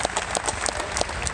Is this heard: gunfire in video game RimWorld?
no